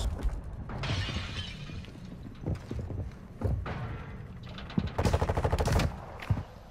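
Gunfire rattles in Call of Duty: Modern Warfare II ranked multiplayer, with sharp bursts of automatic shots, reload clicks and mechanical clatter in quick close succession.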